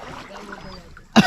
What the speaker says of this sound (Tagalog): Ayan po, bali saguan muna tayo.